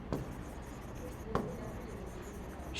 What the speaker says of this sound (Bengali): তাহলে আমি নিচে লিখব অতএব